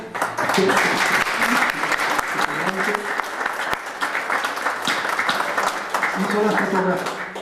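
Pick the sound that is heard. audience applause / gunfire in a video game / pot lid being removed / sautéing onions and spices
audience applause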